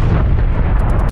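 Artillery shell explosion in the Call of Duty Black Ops Cold War game on the Crossroads map: a short, loud, booming blast with a deep rumbling body that fades quickly, heard alone.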